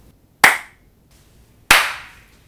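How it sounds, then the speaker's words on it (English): Two sharp hand claps ring out a second apart in an untreated room, each followed by a short reverberant tail before near silence returns. "hand clap."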